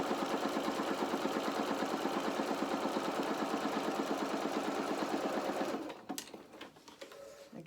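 A domestic sewing machine runs steadily while stitching a row of stitches, a fast even mechanical whirr and tick. After about six seconds it stops, leaving a few soft clicks and handling noises.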